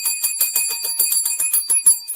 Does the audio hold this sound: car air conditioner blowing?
no